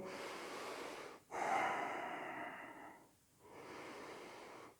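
Deep, steady breathing during a yoga hip-opener stretch: a short breath, then a long airy exhale, a quiet gap and another breath, close to the mic and soft, with no speech.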